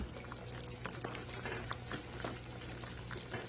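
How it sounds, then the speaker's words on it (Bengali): Fish curry broth with potato and pointed gourd at a steady boil, a continuous close bubbling hiss with small pops and soft clinks scattered throughout, no talking. "ঝোলটা ফুটে উঠেছে"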